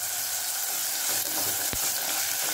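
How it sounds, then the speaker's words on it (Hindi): Jackfruit pieces frying in a pan with asafoetida, cardamom and cinnamon for korma, a loud, steady hiss of hot oil with one brief clack of a utensil against the pan. "कटहल को अच्छे से फ्राई करेंगे ताकि जो इसका कसापन होता है वो निकल जाए।"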